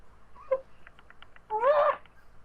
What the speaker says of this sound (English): You hear a cat screech.